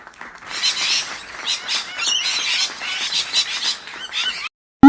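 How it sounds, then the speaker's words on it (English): A parrot gives a string of harsh, squawking calls in quick bursts, loud and close, ending in an abrupt cutoff followed by a brief rising electronic tone. "P for parrot."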